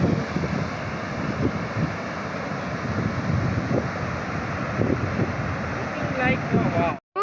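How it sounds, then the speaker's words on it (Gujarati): A river swollen by heavy rain overflows its banks, its rushing water roaring steadily under gusty wind buffeting the microphone, and a voice can be heard over it. "તમે પૂર જો આખું છલકાઈ ગઈ નદી"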